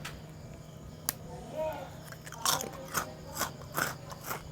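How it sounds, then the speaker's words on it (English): A piece of crunchy fried Indonesian bakwan vegetable fritter is bitten, then chewed with several close, crisp crunches in an irregular rhythm, quiet and with no one talking. "You hear the crunch?"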